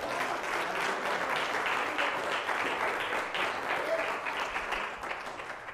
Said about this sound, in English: Somebody give Jesus Christ a hand of applause for that